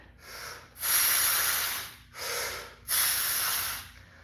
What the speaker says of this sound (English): and you're just breathing